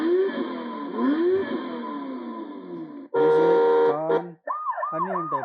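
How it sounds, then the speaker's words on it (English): A toy ride-on BMW car plays an electronic police siren, a wailing tone that shifts into a faster warbling pattern with short breaks, loud and close with no talking. "police siren"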